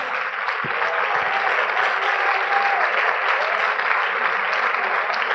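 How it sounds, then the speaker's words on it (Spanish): A church congregation applauds in a continuous, even wave of clapping that holds steady and loud throughout, with no pause. "Otro aplauso al Cordero."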